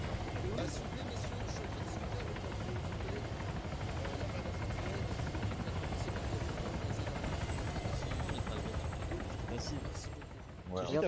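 An Arma 3 Altis Life helicopter landing: a steady, loud rotor thrum and engine buzz that holds throughout, with people talking over it.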